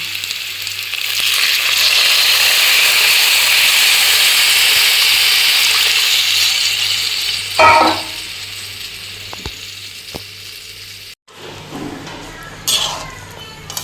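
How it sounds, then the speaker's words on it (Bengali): Hot water goes into a pan of frying taro, potatoes and spices for a hilsa fish curry, producing a loud, sustained sizzling hiss that swells into a brief burst and then fades, with faint voices nearby. "গরম জল করে রেখেছি, এই গরম জলটা আমি দিচ্ছি।"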